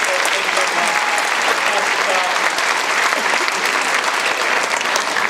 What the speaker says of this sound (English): Also do another round of applause for our accompanist